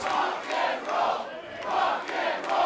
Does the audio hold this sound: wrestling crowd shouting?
yes